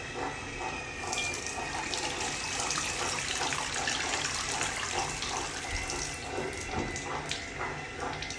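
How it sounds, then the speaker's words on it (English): Water pours out of an AGO film processor tank in a steady splashing gush, close and continuous, with small gurgles and bubbling throughout. "we're getting close to the time to pour the water out"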